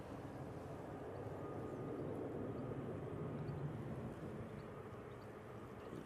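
An Airbus A321neo at Manchester Airport gives a steady, faint, distant engine rumble, an even broadband drone that holds without change and carries no talk.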